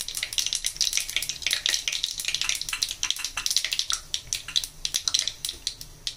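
Whole cinnamon sticks and cloves crackle and sizzle in hot oil as the spices hit it for a South Indian tempering, a steady close frying hiss with dense crisp pops and no talking.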